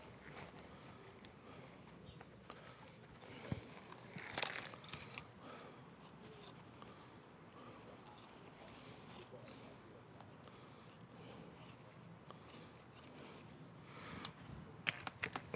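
Scissors cutting a wool liner for a tomato hanging basket, faint scattered snips and rustles of material close by, with quiet handling noise and a couple of sharper clicks near the end.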